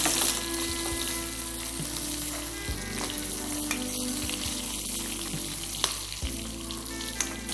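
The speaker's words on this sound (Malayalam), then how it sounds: "ഇതൊന്ന് ലോ ഫ്ലെയിമിൽ ചിക്കൻ മീൻ ഫ്രൈ കഴിഞ്ഞു" Fish is stir-fried with onion and curry leaves over a low flame, making a continuous close sizzle punctuated by occasional knocks and scrapes of stirring, with no talking.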